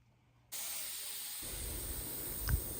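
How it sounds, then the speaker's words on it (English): A pressure canner holding jars of beans in tomato sauce suddenly begins venting steam, a loud steady hiss that holds without talk, with a brief low thump near the end. "It is steaming like a freight train."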